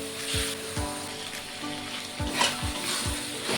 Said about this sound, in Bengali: চিকেনটাকে দিয়ে সুন্দর করে একটু কষিয়ে রান্না করে নেবো কিছুক্ষণ